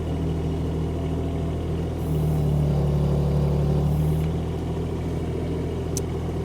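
Engine of a Kubota U17 mini excavator runs steadily close by, rising slightly in pitch and loudness for a couple of seconds when throttled up before settling back to its idle drone.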